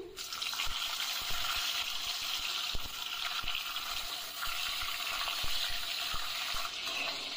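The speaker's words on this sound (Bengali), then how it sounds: "কিছুক্ষণ রেস্টে রাখার পর এগুলোকে সর্ষের তেলে ভেজে তুলে নিচ্ছি।" Slices of pointed gourd (potol) frying in mustard oil in a kadai, a steady bubbling sizzle with occasional soft clicks and knocks throughout.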